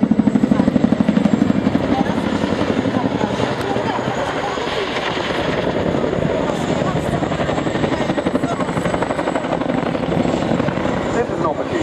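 A Royal Navy Lynx helicopter flies past at an air show, its loud rapid rotor chop and turbine whine filling the air continuously while a commentator talks over it through a public address system.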